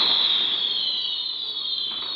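A screamer firework on bonfire night, 5th of November, gives off a sustained, piercing high whistle over a crackling hiss, loud and steady for a couple of seconds.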